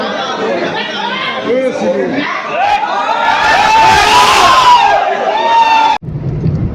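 A dense crowd of people gathered outside a film hall, with many overlapping voices chattering and calling out. The noise is loud and builds to a peak of shouting before it cuts off abruptly near the end.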